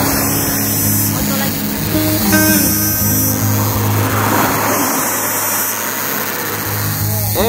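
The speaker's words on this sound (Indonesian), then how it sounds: "Tunggu ada motor." A motorcycle engine hums past on a path through a coconut grove in Likupang, holding a steady mid-range drone that swells slightly and fades, with people talking over it throughout.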